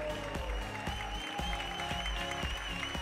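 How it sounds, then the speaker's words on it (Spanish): Audience applause at a Venezuelan television talent show, with clapping and rhythmic beats under music that sits fairly faint in the background. "me lo reciben con un fuerte aplauso"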